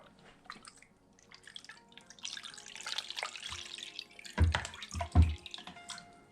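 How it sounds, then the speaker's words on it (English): Liquid stevia trickling into silicone ice cube molds, a soft intermittent pour and a few close drips and splashes, quiet overall. "I'm going to take some of the stevia and just pour it"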